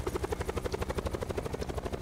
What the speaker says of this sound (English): They got another helicopter right there.